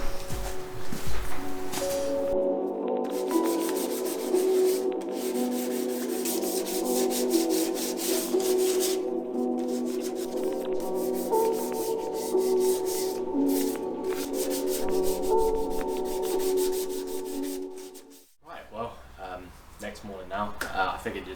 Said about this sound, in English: we'll get this sanded, ready for tomorrow's painting